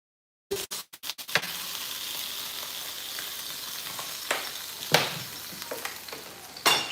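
Washed sausage drops into a pan with a few quick clunks, then a steady close sizzle of frying fat with small pops and stirring scrapes, no voices.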